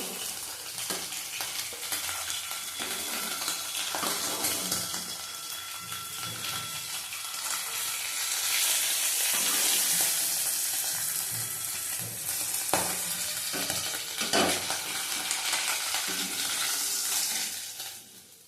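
Fish frying in a pan, a dense, steady sizzle and crackle lasting throughout with occasional spatters and stirring clicks, fairly close and free of speech.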